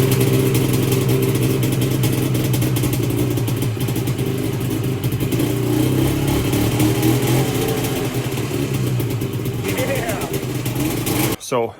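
A ditch banger car's engine runs loudly and steadily with a deep, continuous rumble and some revving, cutting off abruptly near the end.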